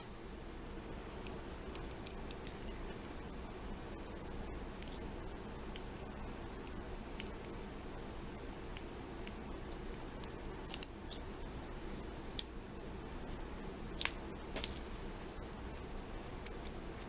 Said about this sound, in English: let me just trim this off with a razor knife.